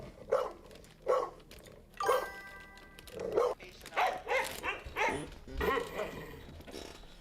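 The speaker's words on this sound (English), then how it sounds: "Dogs trying to defend their owner." Dogs bark repeatedly while defending their owner, loud sharp barks and yips in uneven bursts close by, with some whimpering and voices mixed in.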